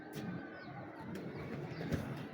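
Pigeons of a pigeon-flying hobbyist return home, with faint soft cooing and a few wing sounds over quiet outdoor background noise.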